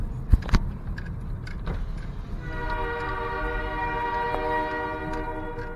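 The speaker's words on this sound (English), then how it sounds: "we got a train coming here." A few knocks and rattles, then a Delaware Lackawanna Railroad train's horn sounds a steady, sustained multi-tone blast over the rolling rumble of the passing train at a street crossing.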